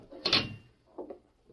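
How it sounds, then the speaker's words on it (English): A jail cell door swings shut in one short, close-up clatter, followed by a quiet low rumble and faint shuffling. "I'll have to close the door on you."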